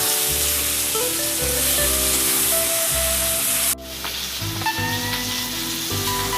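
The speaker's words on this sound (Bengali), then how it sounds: "ভাজা মুড়োগুলো আমি দিয়ে দিলাম মধ্যে, এটা ভালো করে কষবো।" Fried fish heads being sautéed with spices in a pan, a steady sizzle under low tonal hum, with a sharp scrape partway through and some stirring noises after.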